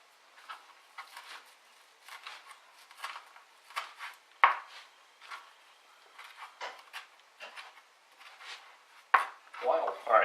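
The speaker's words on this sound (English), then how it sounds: "we're going to chop our parsley up" A knife chops fresh parsley on a board in a series of quick, irregular taps, some clustered and a few sharper knocks, close and clear against a quiet background.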